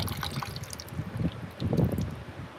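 Water gushes and trickles out of an IMCA stock car engine during a teardown, a soft, uneven splashing flow that swells and fades in short surges.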